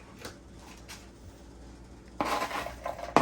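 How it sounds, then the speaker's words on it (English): Onions dropped into a pan heating on a home stove, giving a sudden burst of sizzling and clattering after a quiet stretch, with a sharp clink near the end. "We're going to go ahead and drop these onions in."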